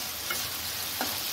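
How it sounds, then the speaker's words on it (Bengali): Pieces of ridge gourd fry in oil for a Bengali katla fish dish, a soft continuous sizzle with a couple of faint ticks of a spatula against the pan. "ঝিঙাগুলো ভাজা হয়ে গেছে, ঝিঙাগুলো আমি নামিয়ে নেব।"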